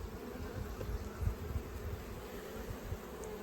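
A dense, low hum of many honeybees buzzing continuously up close in a hive with emerging brood, steady and droning without pause.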